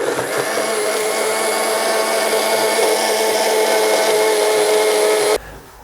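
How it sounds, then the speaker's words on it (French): A blender whirs steadily at high speed, mixing a strawberry, Red Bull, mint and date smoothie, a loud continuous motor drone that cuts off abruptly near the end. "On a récupéré le tout et bien mixé."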